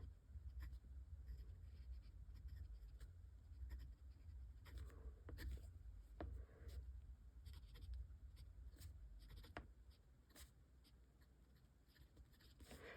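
Pen strokes scratch across the paper of a Hobonichi planner, a steady run of close, soft scribbling with brief pauses and tapping, no talk.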